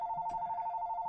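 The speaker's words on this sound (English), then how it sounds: "so I apologize for the ringing phone" A telephone rings indoors, a steady electronic trilling ring that continues throughout, moderately loud and alone.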